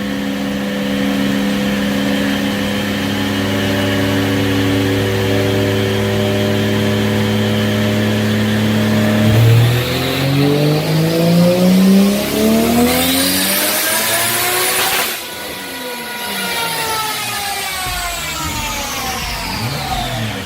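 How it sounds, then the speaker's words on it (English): A car engine revs hard on a chassis dynamometer, running loud and continuous for about twenty seconds as its pitch climbs steadily, drops back abruptly, then rises again through a second sweep with no talking. "Here we go, dyno pull 2."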